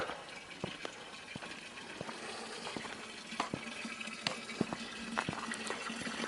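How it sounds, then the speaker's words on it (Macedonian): Soft trickling water flows steadily from a natural spring, with scattered drips and splashes popping irregularly over the gentle burble. "Слушате звукот на моките на водата кои извира од природата."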